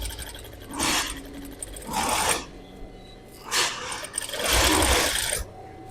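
A sewing machine stitches dress fabric in four bursts of rapid mechanical whirring, each a second or so long, separated by brief pauses, loud and close with no talk over it.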